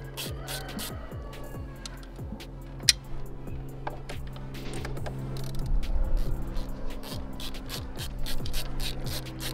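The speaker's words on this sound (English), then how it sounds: "We're using ratchets instead of power tools." Repeated ratcheting clicks in quick bursts over a steady low hum, with metallic taps and a sharp clink partway through, as a hand ratchet turns bolts while installing an intake on a Dodge Challenger SRT Hellcat.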